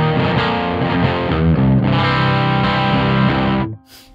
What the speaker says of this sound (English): This is tuned to C standard tuning, and with the same sound I just had before, it sounds like this.